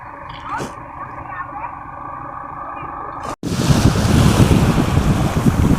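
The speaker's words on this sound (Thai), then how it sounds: "ตรงนี้ริมทะเลเลยทุกคน" At Sam Roi Yot beach, wind buffets the microphone for the first few seconds, then after a brief cut a louder broad rush of surf and wind fills the rest, close and continuous.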